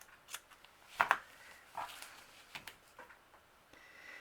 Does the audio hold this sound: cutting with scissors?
yes